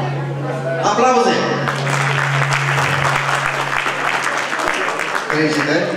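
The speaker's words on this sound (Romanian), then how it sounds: "Aplauze!" Sustained applause at a horse Easter show in Târgoviște, crowd clapping loudly and steadily for a horse and rider, with an announcer's voice briefly at the start and end.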